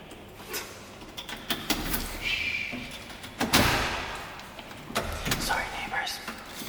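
Someone tries a key in a hotel room door, and a series of sharp metallic clicks, rattles and thuds from the lock and handle follow. People talk quietly over the handling.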